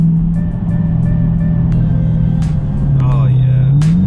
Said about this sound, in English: Got the windows fully up. You can still hear the exhaust very nicely.